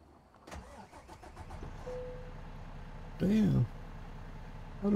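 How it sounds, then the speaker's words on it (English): A truck engine cranks and catches in American Truck Simulator, a brief starter whir followed by a low idle, with someone talking over it. "Start truck."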